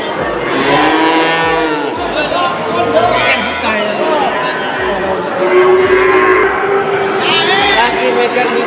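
Several cattle moo loudly and repeatedly amid a busy crowd at a livestock market in Situbondo, Indonesia, with people talking and murmuring all around.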